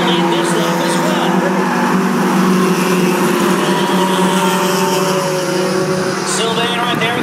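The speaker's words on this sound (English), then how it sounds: "Up in front, it's still the 77 getting a little bit of a run off of turn number 4, and Brown will lead this lap as well." Race cars at a Thursday night short-track oval event roar continuously around the track, a loud sustained engine drone with some whine as cars pass, under an announcer's running commentary.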